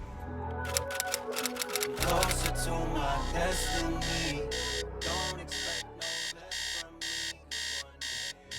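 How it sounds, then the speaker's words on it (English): An alarm clock beeps in a steady series of short, evenly spaced pulses, preceded by a jumble of clattering household sounds. "My alarm was set for 5:45 and I snoozed for about 30 minutes"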